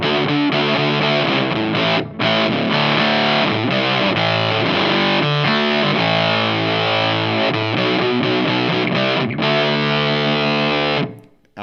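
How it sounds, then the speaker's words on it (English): An electric guitar runs through a fuzz pedal and stacked gain, giving a buzzy, square-wave, synth-like tone on sustained two-note chords. It plays loud and continuous for most of the time, with one brief gap near the start. "It's almost like like a square wave kind of synth sound."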